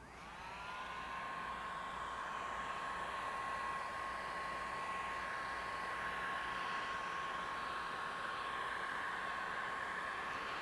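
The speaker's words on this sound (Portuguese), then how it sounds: "quando você vai aplicando o secador, por conta dela ser bem líquida, você pode ir direcionando as gotas" A hair dryer blows on liquid paint in a set-construction workshop, giving a steady, even whoosh with a high whine that runs the whole time, fairly quiet and with no voices.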